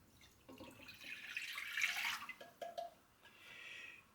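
Warm tap water runs briefly from a tap and splashes into a bowl, quiet and close, starting and stopping in short bursts.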